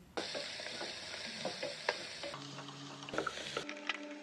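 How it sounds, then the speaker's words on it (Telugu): Sliced onions and green chillies fry in hot oil for egg biryani, a soft close sizzle with stirring scrapes and light pan clinks, no voices. "ఒక 2 ఉల్లిపాయలు, 4-5 పచ్చిమిరపకాయలు కట్ చేసుకొని వేసుకోండి. వీటిని కూడా బాగా వేయించండి"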